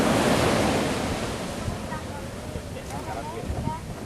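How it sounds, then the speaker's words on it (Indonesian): Big ocean waves crash and roar under strong wind on the beach at Pasir Jambak in bad weather, a dense, continuous rush of surf and gusting noise close to the microphone. "Air laut bahkan sering naik ke daratan akibat ombak besar yang disebabkan oleh angin kencang."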